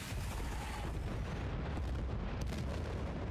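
A tank blown up in the video game Battlefield Bad Company, a loud explosion rolling into a dense, rumbling roar with crackling debris and a couple of sharp bursts near the end.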